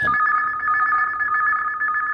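A telephone rings as a caller phones in to a Chhattisgarhi song request show on All India Radio Raipur, a steady warbling electronic trill, clear and alone.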